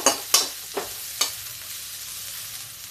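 A spoon stirs breakfast food frying in a pan, producing four sharp scraping strokes in quick succession over a faint sizzle, which then fades to near quiet.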